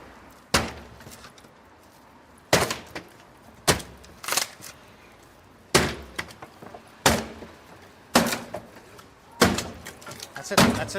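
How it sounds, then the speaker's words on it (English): Repeated heavy bangs of a door being smashed on the lock side during a sheriffs' eviction, about nine loud, sharp impacts spaced irregularly roughly a second apart, with faint voices between blows. "Smash it on the lock side."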